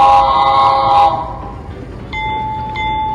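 A model diesel locomotive sounds its horn in two short tonal blasts over a low rumbling engine, close and fairly loud.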